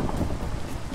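Thunderstorm in the Minecraft video game, a steady wash of rain and wind with a low rumble, filling the brief moment on its own without voices.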